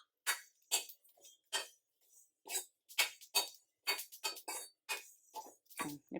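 Sesame seeds, about three teaspoons, dry roasting in a pan for a bottle gourd curry, crackling and popping in sharp, irregular bursts of small clicks and ticks, close and fairly faint.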